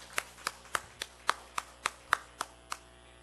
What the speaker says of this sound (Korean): 우리 하나님께 영광의 박수 같이 올려드리겠습니다